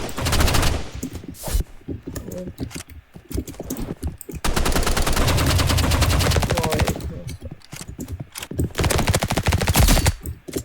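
Rapid Uzi bursts crackle in the shooter video game Rivals, several long sprays of dense automatic fire with short pauses between them, and keyboard clicks show through in the gaps.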